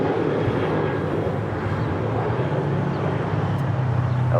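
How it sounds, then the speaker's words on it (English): An Alaska Airlines Boeing 737-800 departs Los Angeles International Airport, heard as a steady, broad, rumbling jet roar with no break, distant rather than overhead. "That was Alaska Airlines flight 1342 heading to Cabo in that 737-800"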